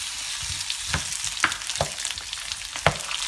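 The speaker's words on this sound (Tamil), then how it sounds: "வெங்காயம் பூண்டு எல்லாம் நல்லா வதங்கிட்டு இருக்குங்க." Onion and garlic sautéing in a pan for tomato chutney, a soft, steady frying crackle punctuated by several sharp spatula clicks against the pan, close and fairly quiet.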